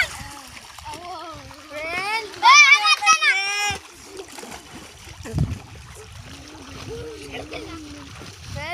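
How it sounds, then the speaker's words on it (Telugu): Children jump into water for a swim at a village spot, with a burst of loud splashing near the middle among excited kids' shouts and chatter throughout. "ఇప్పుడైతే పొట్టోడు అయితే దుంకుతాండి ఈతకు"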